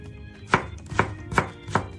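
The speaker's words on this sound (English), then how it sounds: "Cut the cucumber in half, then slice it thinly on a diagonal." Cucumber sliced thinly on the diagonal on a cutting board, four sharp, evenly spaced knife knocks against the board, close and clear with no talking.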